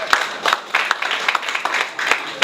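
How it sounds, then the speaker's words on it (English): A modest audience at an energy-sector panel discussion gives a short round of applause, with scattered claps arriving in uneven bursts over about two and a half seconds. "thank you, round of applause."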